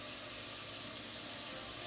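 Water splashed into a hot pan of THC-infused shrimp fried rice, a steady loud hiss and sizzle of pouring and steaming liquid, close and continuous with no talk.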